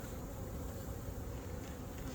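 Honeybees swarm and buzz around an open hive, making a steady, close, dense drone with no break and no voices.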